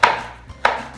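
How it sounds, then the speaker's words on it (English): A knife chops a serrano pepper on a cutting board in a home kitchen: two sharp, close knocks about half a second apart, with quiet between them. "So I'm chopping this serrano pepper"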